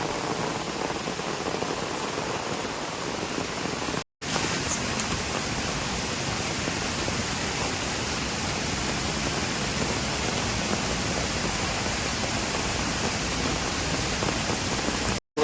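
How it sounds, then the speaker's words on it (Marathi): Heavy rain pours down on a path to a waterfall at Natal, Kankavli, in a steady, dense hiss that stays loud throughout, cutting out briefly once before resuming just as strongly. "आणि परत आता जोरदार पाऊस येलो"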